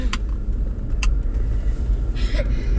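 A car engine idles steadily with a low rumble throughout, with a couple of faint clicks and rattles from inside the vehicle.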